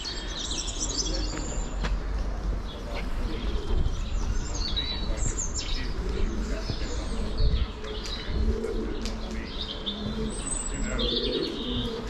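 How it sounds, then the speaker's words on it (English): Pigeons nesting up in the rafters and beams of an old structure: soft coos and scattered chirps echo over a constant low background rumble, at moderate distance. "local pigeons come to live. Nesting up in the rafters or up in the beams."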